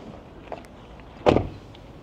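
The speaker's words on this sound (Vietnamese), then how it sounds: "Đóng thử cửa này, các bạn nghe này." The door of a Toyota Camry 2.5Q sedan, over eight years old, shuts with a single solid, dull thud near the microphone, preceded by a faint click and followed by a short decay in a quiet setting.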